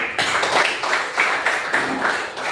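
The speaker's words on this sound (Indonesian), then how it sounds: "Tepuk tangan dulu." Schoolchildren clap their hands together in a classroom, a close, steady burst of many hands with a loose pulsing rhythm that runs through without talk.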